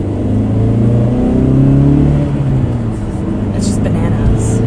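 A 2015 Mazda3 GT with a 2.5 liter engine and 6-speed manual accelerating, a low engine drone rising in pitch as it revs, heard from inside the cabin under a voice.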